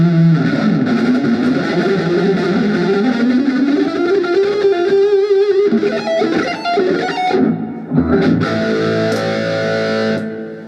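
Blackstar HT1R guitar amp with reverb turned all the way up, distorted electric guitar phrases ringing out with long reverb tails, loud and continuous, briefly dropping out near the end before another chord swells.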